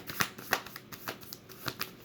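Tarot cards shuffled by hand, a quick run of crisp riffling flutters and soft slaps in an irregular rhythm, close and fairly quiet, with no voice over them.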